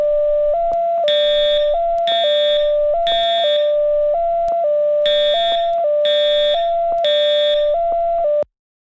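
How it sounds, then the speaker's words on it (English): School fire alarm sounding loud and near, a repeating electronic tone pattern of alternating pitches with shrill bursts, cycling steadily and then cutting off abruptly. "Man, I hate the noise the fire alarm makes."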